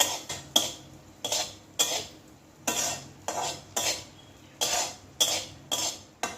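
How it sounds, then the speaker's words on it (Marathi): Tender cashew nuts roasting in ghee in a kadhai, stirred with a spoon that scrapes and clinks against the metal in about a dozen sharp, evenly spaced strokes over a faint sizzle, close up with no voices. "आता हे छान तुपावर परतून घ्यायचे"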